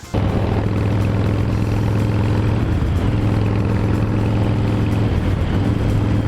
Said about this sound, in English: I wonder, how it feels on the bike going down the road.